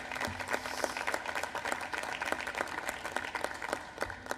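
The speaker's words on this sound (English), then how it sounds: "Another round of applause for the Secretary of Energy, if you would" Attendees at a National Space Council meeting at Kennedy Space Center applaud the Secretary of Energy, scattered, moderately distant clapping with individual claps audible over room tone.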